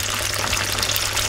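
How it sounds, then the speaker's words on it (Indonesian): Fish pempek frying in hot oil, a dense continuous sizzle and crackle heard close and fairly loud throughout, with no voice. "ini sekarang pempeknya kita goreng"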